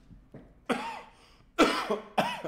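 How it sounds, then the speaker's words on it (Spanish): A person coughs several times in quick bursts, close and fairly loud, with short quiet gaps between the coughs. "perdón que voy a toser"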